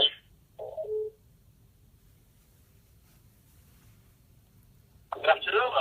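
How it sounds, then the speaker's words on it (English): Telephone keypad tones dial into an Echolink amateur radio link hosted on a Raspberry Pi, with a short tone burst near the start, a long silence over faint hum, then a dense burst of tones at the end. "I'm on the phone at the moment, dialing up into the Raspberry Pi."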